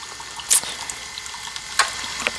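Keurig K-Mini single-serve coffee maker brewing, with a low trickle of liquid and a few sharp hissing spurts and splashes as coffee sprays into the cup, quiet and close.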